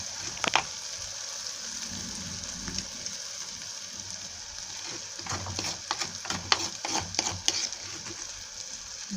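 Parippu lentils being stirred in a pan, with a steady sizzling hiss underneath and soft scraping stirs that grow busier in the second half, no voices.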